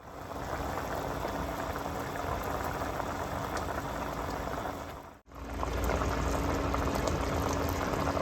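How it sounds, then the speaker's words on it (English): Thick, creamy Marsala sauce simmers on a stovetop burner with continuous close, dense bubbling that cuts out for an instant partway through, then resumes. "now the sauce has thickened, and I'm going to turn out the burner"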